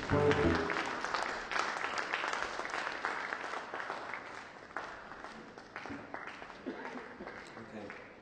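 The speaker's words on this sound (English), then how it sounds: "You're having a clapping competition over there, Simon." A small audience claps at a live music performance, loud at first and then settling into a sustained, dense patter of hands that gradually thins out.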